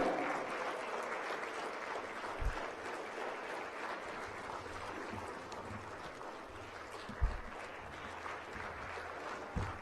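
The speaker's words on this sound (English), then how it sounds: "With a resounding round of applause, if possible, a standing ovation, please welcome Perez." Audience applause at a Speak For Africa speaking event as a speaker is welcomed on stage: a dense, steady patter of many hands clapping, sustained throughout at moderate distance, with a few louder thumps.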